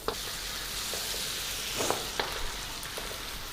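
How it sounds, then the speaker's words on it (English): Ground spice paste for hotel-style tiffin sambar sizzles in a hot wok, a steady soft frying hiss with a few faint scrapes and pops, heard alone. "To the wok, we'll add the ground paste."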